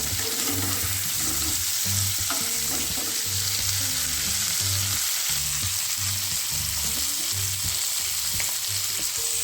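River prawns fry lightly in hot oil in a wok with a loud, constant sizzle and occasional stirring scrapes, for a prawn posto dish, with no talk.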